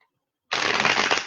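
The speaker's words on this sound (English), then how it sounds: "It was a clunky ass shuffle." After a short silence, a deck of tarot cards is shuffled close up in one quick, loud riffling burst.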